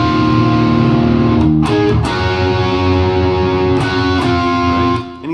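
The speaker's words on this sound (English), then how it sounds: "Then he opens it up like bridge pickup with more distortion." Electric guitar played through the bridge pickup with heavy distortion, loud sustained chords ringing with a few changes and short breaks, without any voice.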